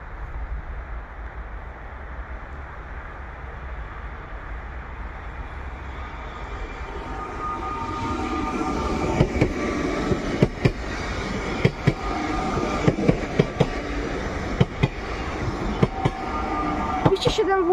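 A PESA Elf electric multiple unit passes on the S1 line near Katowice Zawodzie in winter: a low rumble builds, then sharp rhythmic clacks of wheels over rail joints grow louder as it goes by close.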